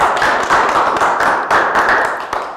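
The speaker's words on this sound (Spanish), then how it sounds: "Démosle un fuertísimo aplauso a la compañera." Audience applause after a talk introduction at an astronomical society event, dense and steady clapping close by, filling the whole short stretch without voices.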